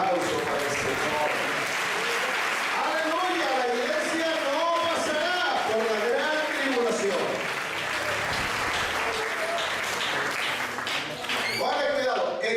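A church congregation applauds loudly and continuously during a sermon on Christ's second coming, with the pastor preaching over the clapping throughout.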